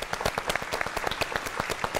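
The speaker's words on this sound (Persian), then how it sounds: "تبریک میگم، تشویقش کنیم." A game show studio audience applauding a contestant, with a brisk burst of many hands clapping in quick, uneven rhythm, fairly faint and steady across the short stretch.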